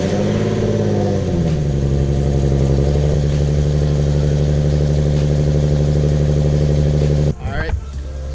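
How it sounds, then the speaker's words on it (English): A 2016 Nissan 370Z cold-starts with a brief rev swell, then settles into a loud, steady, deep idle drone close by, with a short clunk near the end. "We're just gonna do a cold start."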